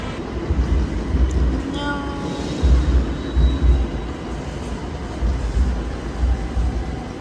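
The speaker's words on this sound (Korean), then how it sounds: "저는 김포공항역 도착했어요." A subway train arriving at Gimpo Airport station, with a loud, steady low rumble and brief squealing tones from the wheels or brakes, a voice speaking over it.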